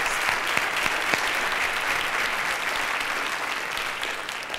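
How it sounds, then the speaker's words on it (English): Audience applause for the sponsors at the Indiana's Junior Miss 2008 pageant preliminary night, a steady, moderately loud crowd clapping with a few sharper individual claps standing out. "Please give a warm round of applause for our sponsors."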